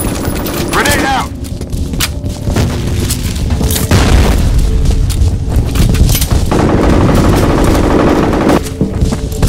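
Gunfire and a grenade blast in a shooter game on the Office map: a booming explosion near the start, then dense bursts of automatic fire and single shots crackling steadily through the rest, loud and close, with faint voices underneath.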